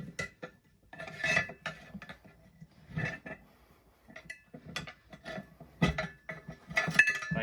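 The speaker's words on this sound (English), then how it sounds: "So just use 3 more screwdrivers if you need, and work the bead up around the tire." Screwdrivers prying and working a tire bead onto a mini bike rim, making irregular scraping, rubbing and metallic clinking in short close bursts with quiet gaps between them.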